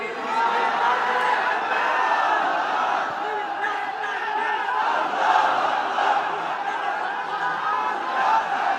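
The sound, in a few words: crowd shouting takbir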